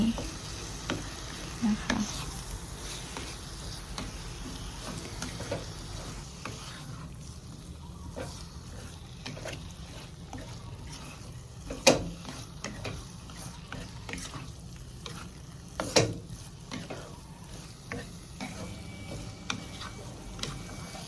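Curry paste with ground coriander seed, turmeric and chili stir-fried in a pan for a spinach and potato curry: a soft, continuous sizzle with occasional spatula clicks and taps, fairly faint.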